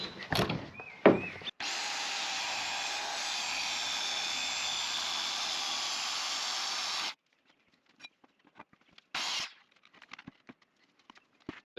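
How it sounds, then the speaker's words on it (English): A power tool cuts through plywood in one steady, continuous run lasting several seconds, preceded by a few brief knocks and followed by scattered light taps and handling noises. "let's get started with just cutting the plywood out"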